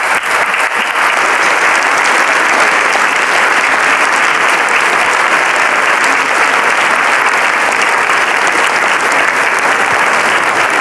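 Loud, sustained applause from a studio audience cheering the finalists of a French letters-and-numbers game show final in Monaco, a dense unbroken roar of clapping throughout.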